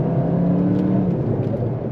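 Cupra Formentor VZ with its 300 hp engine pulling under acceleration, a steady, loud engine drone with a low tone that holds through the two seconds, alone with no voices.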